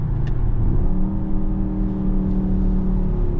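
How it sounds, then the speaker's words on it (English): A 2026 Mercedes GLE 63 S AMG SUV downshifts on the German autobahn. The engine holds a loud, continuous drone, and its pitch shifts as the gear changes. No voices are heard. "just shifting it back down again. Let me just do this here, downshift."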